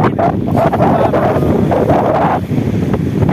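Strong wind buffets a microphone in a loud, continuous rumbling roar that rises and falls in gusts, on a cold day near the Canada–US border.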